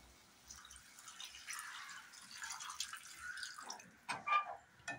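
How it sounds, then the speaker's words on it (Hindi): Water is poured into a pan of cooked, softened tomatoes for dhaba-style sev tamatar curry, giving a faint trickling and splashing that grows more uneven toward the end, with no talk. "इसमें पानी डाल देंगे।"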